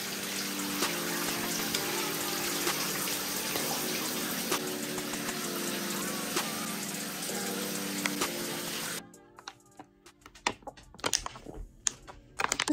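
Shower water runs in a steady hiss for about nine seconds, then stops, followed by scattered drips and small knocks in the quiet bathroom.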